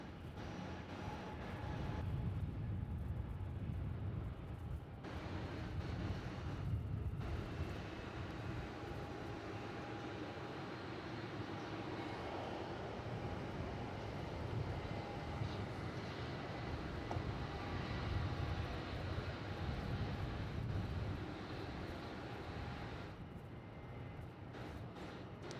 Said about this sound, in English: now we've got Velocity 291 lining up at Juliet to head across to Canberra